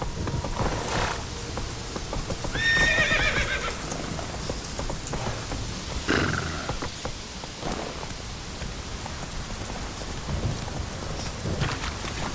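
Roach, a horse in The Witcher 3, runs with a steady beat of hooves while rain and low thunder roll in the background, and one high neigh cuts through near the start.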